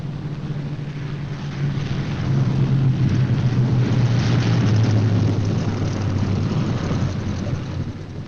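A B-17 Flying Fortress bomber coming in to land with its left inboard engine dead, a continuous propeller engine drone that swells to a loud steady roar in the middle and eases slightly toward the end, heard alone.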